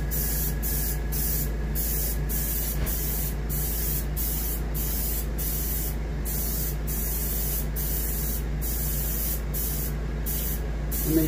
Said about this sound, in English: I've got silver metallic, and I'm supposed to apply a moderate coat to the lower 2/3 of the fish.